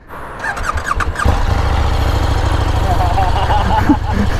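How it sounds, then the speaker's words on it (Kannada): KTM Super Duke motorcycle with its stock exhaust, starting up with a brief whir and settling into a steady, fairly loud low idle throb, while a few squeaks and a voice come through faintly. "ನೋಡಿ ಇವಾಗ ಸ್ಟಾಕ್ ಕೇಳಿಸ್ತೀನಿ"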